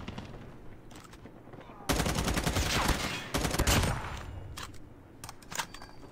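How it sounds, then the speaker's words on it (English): Automatic gunfire from the Call of Duty Mobile video game comes in a loud rapid burst of about two seconds, then a shorter one, with scattered single shots and quieter game sounds around them. "Non-stop just shooting at people."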